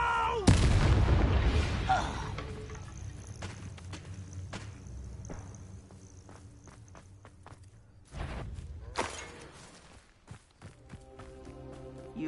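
Bombarda and Confringo spells in Hogwarts Legacy, a heavy booming blast at the start and another mid-way, with thuds, footsteps and scattered impacts of a fight between them.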